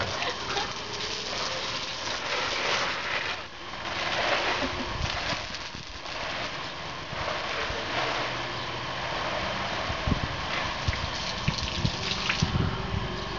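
Water gushes continuously from a hose sprayed toward a dog outdoors, a steady close rushing stream that swells and dips slightly over its length.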